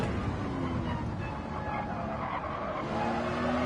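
Race cars including a Porsche in Gran Turismo 7, a steady close roar of engines and tyre noise running throughout, fairly quiet overall.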